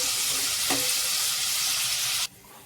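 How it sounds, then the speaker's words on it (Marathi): Onion sautés for a spicy mutton curry, giving a steady, close, bright sizzle that cuts off abruptly just before the end. No one speaks. "थोडासा कांदा घालायचा। छान परतून घ्यायचं असं."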